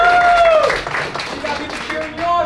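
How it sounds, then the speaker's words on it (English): An audience at the Blu Room live show whoops and claps briefly, a short loud burst of cheering that fades under a speaking voice. "You got people cheering you on right here."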